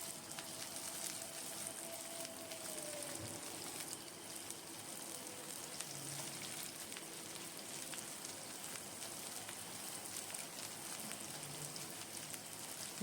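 Three medium chopped onions frying in a pan with salt for a lemon chicken dish, a soft continuous crackling sizzle, faint and steady throughout.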